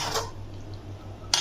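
A metal spatula stirs chicken in a kadai, giving two short scraping clatters at the start and end with a low steady hum between, close and fairly quiet.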